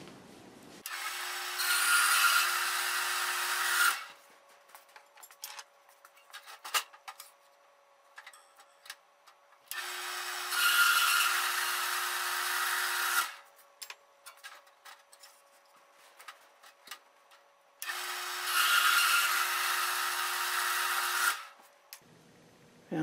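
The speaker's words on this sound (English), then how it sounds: "So let me go cut those on my saw." MDF pieces for glue-up jigs being cut on a power saw, three separate cuts each lasting about three seconds, loud and close, with quieter handling knocks and clicks between them and no talking.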